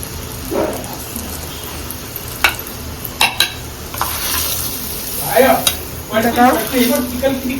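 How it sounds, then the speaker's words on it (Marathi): Hot oil tempering poured into a mix of dal and raw mango, giving a close, moderately loud sizzle that flares in bursts, with scattered stirring clatter and a few sharp utensil taps. "व्यवस्थित फोडणी आपण टाकून घेणार आहोत तेलाची"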